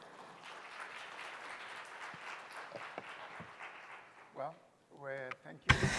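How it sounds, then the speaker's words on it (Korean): At the Herald Design Forum 2022 conference, an audience gives a soft, steady round of applause to welcome two speakers. The clapping fades after about four seconds and a voice begins speaking. "여러분 큰 박수로 맞이해 주십시오"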